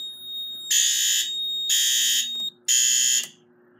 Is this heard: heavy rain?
no